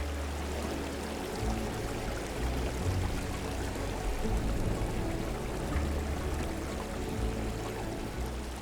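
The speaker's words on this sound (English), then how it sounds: "In a region where water is scarce, these springs act as a lifeline, drawing animals from across the surrounding wilderness." Water from natural springs in the Kenyan savanna flows in a steady, dense rush that stays even and continuous, with no voices present.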